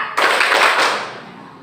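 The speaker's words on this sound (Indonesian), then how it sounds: "kita tepuk gembira dulu ya" A class of pupils performs the tepuk gembira clapping routine in a classroom, a brief burst of brisk hand claps that starts abruptly, holds loud and dense, then trails away.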